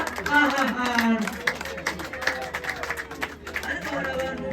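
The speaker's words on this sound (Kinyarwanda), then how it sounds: "reka dukomere Imana amashyi ku bimaze kubera aha hantu" A church congregation applauds with sustained clapping, a broad crowd sound mixed with voices and calls throughout.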